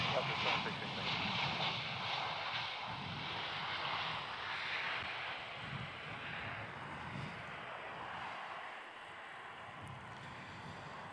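An airliner at Melbourne Airport builds to a broad, roaring engine rumble on runway 34 for takeoff, heard from a distance under wind noise, with radio-style talk mixed in.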